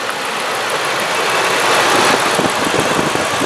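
A 1997 Lincoln Town Car with a 4.6 engine running on very old gas, idling with a steady, loud mechanical drone and a light ticking knock, heard close up and alone without voices.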